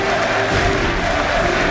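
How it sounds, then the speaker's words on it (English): A packed arena crowd at a League of Legends esports final cheers and applauds, a brief, steady wall of voices and clapping filling the space. "We hear the crowd here."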